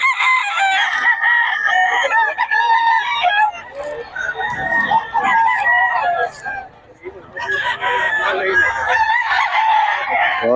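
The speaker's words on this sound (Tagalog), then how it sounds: "Mga manok ni Boss Batang" Chickens cluck and crow close by at a market, a rooster calling repeatedly with busy clucking around it, and a voice talks briefly among them.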